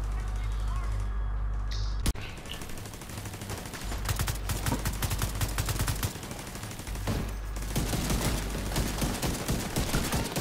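Video game gunfire in The Division 2, set in an Air & Space Museum: loud rapid bursts of automatic fire with sharp single shots, continuous over most of the stretch, with a brief pause partway through.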